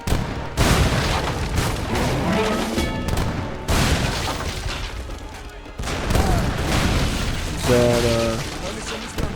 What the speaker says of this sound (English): Oh, heavy cannons.